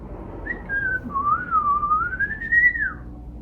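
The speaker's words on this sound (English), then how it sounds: "That was a long whistle." A single long human whistle that glides up and down in pitch for about two and a half seconds, clear and close against quiet background hiss.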